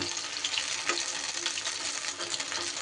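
Spinach fritters frying in a pan give a steady, close hiss and crackle of oil that runs the whole time with no break, and nobody talks over it.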